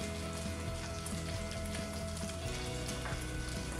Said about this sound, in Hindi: अब हम इसको थोड़ा सा बॉईल होने देंगे। अब मैं यहाँ पर थोड़ा सा क्रीम डाल रही हूँ